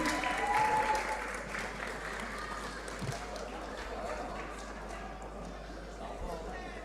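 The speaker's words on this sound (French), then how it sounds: "Bravo, on applaudit bien fort." An audience at a battle royale combat-sports event applauds the fighters after a bout, a steady, moderately loud roar of clapping with a crowd murmur underneath.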